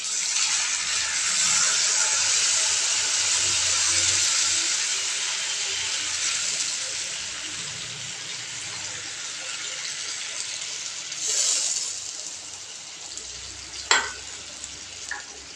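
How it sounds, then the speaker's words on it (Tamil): Tamarind water goes into a pan of sizzling onions and green chillies. A loud, bubbling hiss is strongest at first, then settles into a quieter simmer with occasional stirring clinks near the end. "அவ்வளோதான், புளி சேர்த்தாச்சு."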